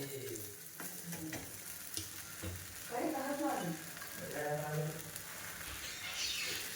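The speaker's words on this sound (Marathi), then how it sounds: "आणि थोडे तेल सोडून घेणार आहोत आणि छानपैकी खरपूस भाजून घेणार आहोत" Methi thalipeeth fries in oil on a pan, a close, steady sizzle and crackle with occasional scraping as it is turned, while a voice talks over it.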